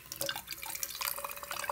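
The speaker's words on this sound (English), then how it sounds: "now I'm just going to go ahead and fill up the bottle with water" Water running and dripping into a baby bottle, with a steady trickle, small drips and a faint glassy ring close by, no talking.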